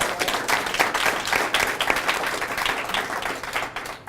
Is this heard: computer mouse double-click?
no